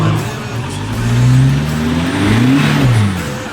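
An off-road vehicle on a Cape York track revving hard as it climbs an obstacle, the engine surging and falling in pitch through several throttle pulses, loud and close with no talk.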